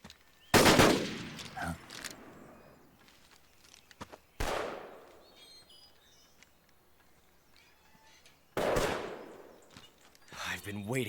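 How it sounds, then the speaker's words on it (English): Gunshots ring out in a Metal Gear Solid 3 video game cutscene: sharp, booming cracks spaced several seconds apart, each with a long echoing tail. Quieter sounds fill the gaps between the shots. "And then you hear 6 gunshots."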